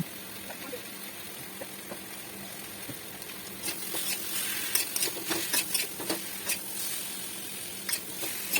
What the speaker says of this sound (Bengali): এবারে আমি আদা বাটা এবং জিরে বাটা দিয়ে সবজিগুলোর সাথে ভালো করে কষিয়ে নেব